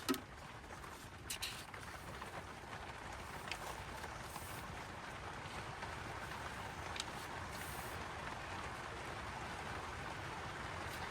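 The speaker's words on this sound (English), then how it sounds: "I am sorry about the rain. There's not much I can do about it." Steady, soft rain patters continuously on a surface at an outdoor car boot sale, a faint even hiss with a few scattered louder drips.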